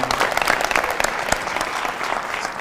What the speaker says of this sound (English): Let's give this young man a round of applause if we can.